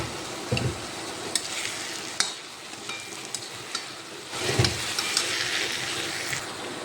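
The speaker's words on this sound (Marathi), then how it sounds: "याला असे पूर्ण तेल सुटू द्यायचं आहे" Wheat pasta mixture frying in oil in a pan while being stirred: a steady, close sizzle with scraping bursts from the spoon, louder again near the end, with no talking.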